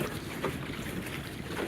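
A John Welsford Navigator sailboat beating upwind, steady rush of wind and water noise against the hull, close and continuous for a brief stretch without talk.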